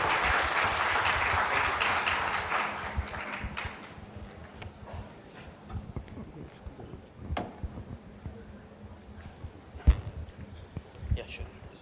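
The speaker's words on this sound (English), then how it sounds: "Give a huge round of applause" Applause from a crowd at a Google Cloud community day in Indore, a dense burst of clapping for about four seconds that fades out, followed by quieter room noise with scattered knocks and faint voices.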